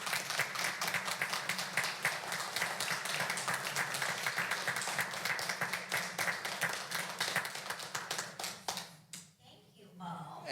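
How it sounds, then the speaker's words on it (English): A room at a city council meeting fills with steady, dense clapping that carries on for about nine seconds before tapering off, with a voice starting up as it ends. "Let's give a round of applause"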